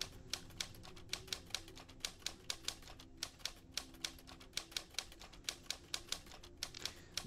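Typewriter keys clatter in The Shattering as sharp mechanical strikes in a quick, uneven run. The typing is fairly quiet and close, with no talk over it.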